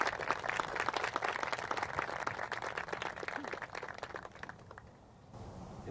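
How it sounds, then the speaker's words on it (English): Audience applause at a hall of fame induction ceremony: sustained clapping from a crowd for about five seconds, then thinning and fading out near the end. "Folks, if we could get another round of applause."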